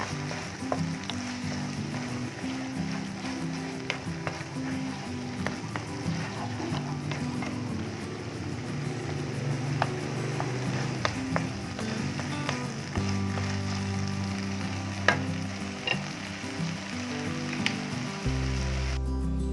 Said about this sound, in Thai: แล้วก็ผัดจนน้ำงวดอีกหน่อยหนึ่งนะคะ